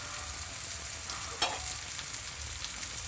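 Second pour of coconut milk hitting a hot pan of squash with shrimp paste and mushrooms, a constant close sizzle and bubbling fry with a short stirring scrape midway, no voices.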